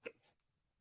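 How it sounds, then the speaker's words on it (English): A single sharp hiccup bursts out near and fairly loud right at the start, followed by a fainter breathy catch and then quiet room tone. "I got hiccups now"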